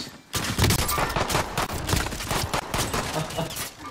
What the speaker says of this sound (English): It's a pistol. Somebody pistoling.